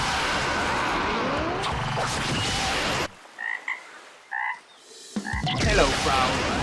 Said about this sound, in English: Hello, Frog